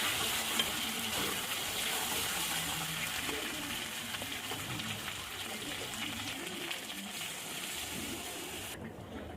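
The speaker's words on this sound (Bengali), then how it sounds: "এবার জল দিয়ে দেবো।" Steady sizzling and bubbling as water is added to spicy Bengali chicken curry frying in oil, a continuous close hiss that barely changes over about nine seconds.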